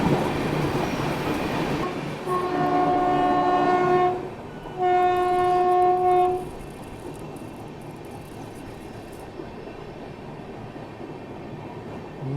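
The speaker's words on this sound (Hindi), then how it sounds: "ये तो कोई और पैसेंजर ट्रेन लग रही है" A passenger train passes nearby with two long, loud horn blasts over a rumbling, clattering wheel roar, then fades into a quieter steady rumble.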